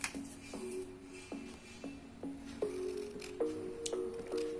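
Scissors snip through paper pieces in a quick series of about ten short crisp cuts, close and fairly quiet.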